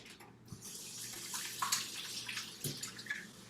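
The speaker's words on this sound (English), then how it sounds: "I'll get my hands rinsed off here" Water runs steadily from a kitchen tap as hands are rinsed, a soft, close splashing stream with small drips and clinks throughout.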